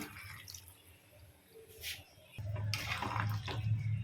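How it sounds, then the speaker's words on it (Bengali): Water poured into a pan of Kashmiri aloo dum curry, faint drips at first, then a steadier louder splashing pour in the second half, close by. "আর একটু জল লাগবে, আমি সেই জলটা দিচ্ছি"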